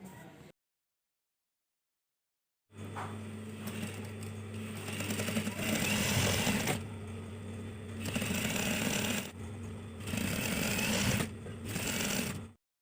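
Sewing machine stitching a trouser hem: a short burst, a pause of silence, then a steady close whirring run broken by a few brief stops, with no talking.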